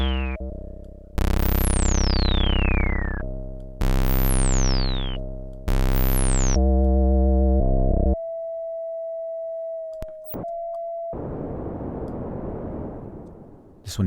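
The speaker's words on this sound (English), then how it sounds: "Let's have a listen to the sub oscillators." Logic Pro synth sub oscillators sound in turn: loud buzzy sustained tones with sweeping high chirps, a thinner held tone, brief clicks, then a steady rushing noise layer, all synthetic with no voices.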